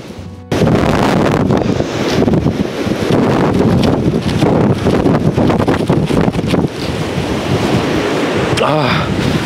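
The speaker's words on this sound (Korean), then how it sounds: "눈보라의 바람이, 와, 진짜 얼굴을 때리는데" Strong snowstorm wind roars on a snowy mountain in Gangwon-do, Korea, buffeting the microphone in loud, continuous gusts that start abruptly and carry on for several seconds.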